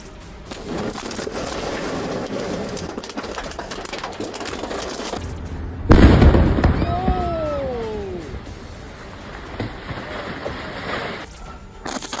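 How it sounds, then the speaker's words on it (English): A house in Virginia, deliberately set on fire with gasoline, explodes in a sudden heavy blast midway through. Steady background noise comes before it, and a rumbling decay with some high whistling tones follows. "intentionally set his house on fire with gasoline in Virginia, causing a massive explosion that could be felt even from a distance"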